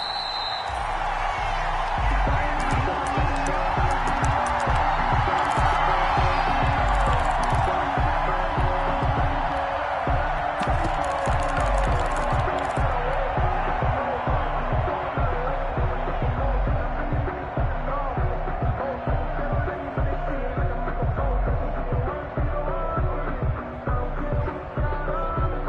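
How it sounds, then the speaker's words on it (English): A stadium crowd before a Los Angeles Chargers vs New York Jets NFL game in a football video game: a dense, sustained crowd roar with a steady rhythmic pulse running through it. "This crowd is ready as their guys get set to match up between the Los Angeles Chargers and the New York Jets."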